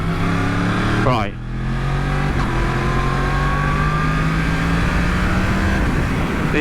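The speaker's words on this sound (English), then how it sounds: "The engine is just so rapid though." A 2020 Yamaha MT-10 super naked motorcycle pulls hard on twisty roads, its engine rising in a long steady climbing whine under constant wind rush, with a rider's voice heard briefly.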